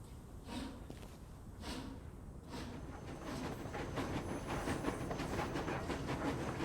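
A coal-burning train in a first-person shooter game rolls along with a steady rumble and rhythmic clacking that grows slightly louder, continuous and fairly close.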